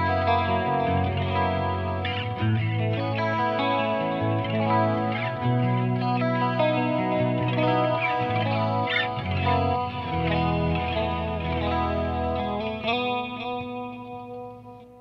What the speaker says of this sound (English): Let's put a little delay on it. Got my flashback on, so let's see how it sounds with that.